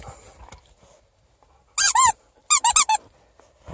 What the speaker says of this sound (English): there's a squeaker in there somewhere!